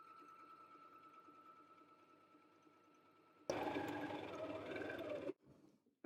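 A sewing machine runs a steady continuous stitch along a long ruffled dress seam for about two seconds, loud and close, then stops abruptly, following a quieter stretch of low hum.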